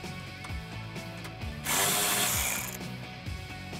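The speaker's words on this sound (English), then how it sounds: "I'm gonna use a 10 mil on my ratchet, pull those off" A hand ratchet with a 10 mm socket backs nuts off a 2018-2021 Mustang, giving several quick clicking bursts in rhythm, close and clear, with a brief louder hiss of rustling partway through.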